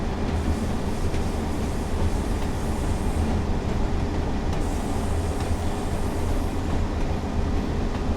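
A British Rail Provincial Class 142 Pacer railbus runs along the Blackpool South branch line, its steady loud rumble and rail noise continuous from inside the train, with no voices.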